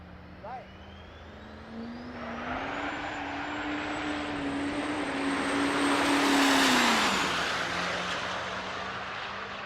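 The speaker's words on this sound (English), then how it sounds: "Clockey hazes the tires off of the thing for about 30 feet." A diesel GMC truck launching at a drag race and spinning its tires, the engine roaring up and holding a loud sustained drone as it pulls away, with an announcer talking over it.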